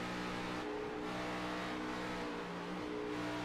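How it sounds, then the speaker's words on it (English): Race car engine at Darlington with the throttle fluctuating as it exits a corner, a steady mid-pitched drone rising and dipping in quick surges, continuous and fairly close with no talk over it. "You can just hear him fluctuate that throttle, Jared, getting out of that corner."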